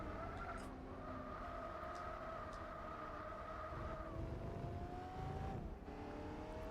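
A car braking hard in Gran Turismo 4, with a steady engine drone and a long tonal tire squeal that slides downward in pitch, loud and close.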